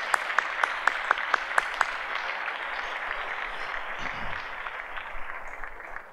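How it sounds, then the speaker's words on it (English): Audience applause at a Treasure Coast sports awards ceremony for scholar athletes. It opens with a few loud, evenly spaced claps up close, then settles into a broad, steady wash of clapping from a large crowd that holds to the end. "Let's have a nice round of applause for our Treasure Coast Scholar Athletes."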